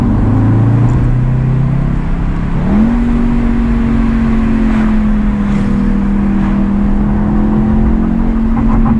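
A 2016 Audi TT S revs loudly up close; the engine note climbs, jumps sharply, then holds a sustained high drone that eases off slowly, with faint pops underneath.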